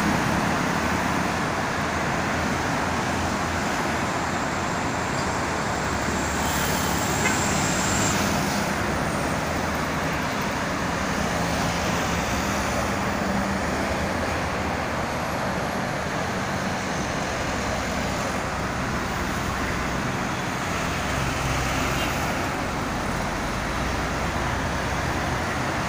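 Dense holiday traffic of private cars on the Jakarta-Cikampek toll road, a constant broadband roadway roar with passing engines swelling and fading, no voices.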